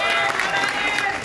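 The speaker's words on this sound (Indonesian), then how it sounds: "Tepuk tangan Bang Pange." Dense crowd applause and cheering at an outdoor political rally in Jakarta, a loud continuous wash of clapping with shouts mixed in throughout.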